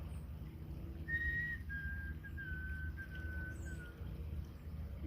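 A thin, faint whistled note from a white-throated sparrow repeats in a short series on a morning birdwatch, heard far off beneath a low steady background hum.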